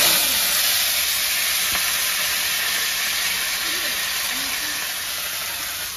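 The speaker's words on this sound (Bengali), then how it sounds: "এবার সবজিগুলো ভেজে নেব সব" Vegetables fry in a pan over a home stove, a loud, dense, continuous sizzling hiss that holds steady and fades slightly toward the end.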